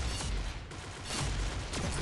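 A fireworks weapon in the shooter game Pixel Gun 3D goes off in a dense crackling burst of rapid explosive pops, loud and continuous across the moment.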